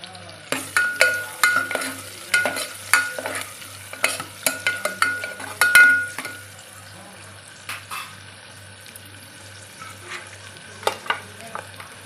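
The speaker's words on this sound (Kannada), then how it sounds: "ಫಸ್ಟ್ಗೆ ಎಣ್ಣೆ ಹಾಕ್ಕೊಂಡು ಈರುಳ್ಳಿ ಫ್ರೈ ಮಾಡ್ಕೊತಾ ಇದ್ದೀನಿ." Onions frying in oil in a pan while cooking country-style mutton chops, with repeated stirring scrapes and crackling sizzle over a steady low hum, busy for the first six seconds and then quieter with only occasional stirs.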